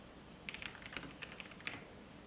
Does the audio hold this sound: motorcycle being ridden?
no